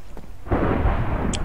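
Rumbling thunder crashes in with heavy rain in a tornado survival video game, a sudden loud low boom followed by a steady dense roar of rainfall.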